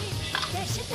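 Garlic and ginger paste fries in oil with onions, a steady close sizzle with a few soft stirring scrapes over one second.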